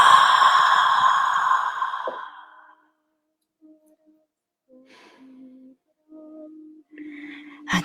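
A long, deep, breathy exhale released after a held breath, strong and close at first and trailing off after about two seconds, followed by faint quiet tones and a soft breath near the end.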